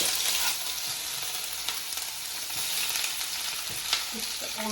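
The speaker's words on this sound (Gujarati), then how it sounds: "તો હવે મંચુરિયનનો વઘાર થઈ રહ્યો છે" Ginger garlic paste sizzling in hot oil as tempering for homemade manchurian, a steady close hiss of frying with faint stirring scrapes and no talk.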